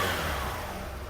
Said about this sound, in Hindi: थोड़ा ही टोटल देते बाइक भरपूर रेस ले रहा है।